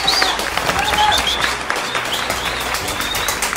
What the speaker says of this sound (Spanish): ¡Un aplauso, señores y señores!